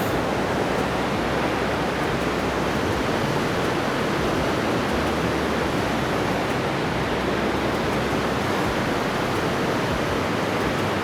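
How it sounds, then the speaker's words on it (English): Niagara River white-water rapids rush with strong force, a loud, continuous broadband roar of churning water close by, steady throughout with no voices. "you can really hear the sound of this water, how strong the tide really is"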